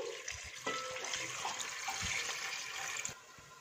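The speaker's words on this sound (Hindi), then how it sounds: "इसमें 4 गिलास 1 लीटर पानी शामिल कर देंगे" Water poured from a glass into a pot of broken jaggery pieces, about a litre in all, splashing in a steady continuous rush for roughly two and a half seconds before stopping, with no talk over it.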